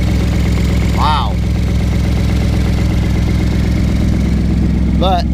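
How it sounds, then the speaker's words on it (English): An engine-swapped truck with a Coyote engine idles with exhaust leaks, a loud, steady, close rumble with a ticking pulse. Voices come in briefly over it twice. "Sounds like she's got some exhaust leaks"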